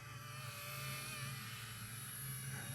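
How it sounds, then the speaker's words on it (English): An RCERA C184 MD530 model RC helicopter whines steadily at a distance in flight, its high-pitched rotor and motor tone holding constant with faint background noise. "Cool, cool helicopter. Zipping it around."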